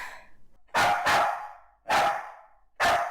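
A dog barks in short, sharp bursts, four loud close barks spaced unevenly across a few seconds, with a quieter yelp or whine just before them.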